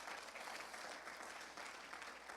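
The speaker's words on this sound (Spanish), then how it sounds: "Alguien dele un aplauso a Jesucristo por eso." A Spanish-speaking church congregation applauds during a sermon, a faint, even wash of clapping heard from a distance without talk.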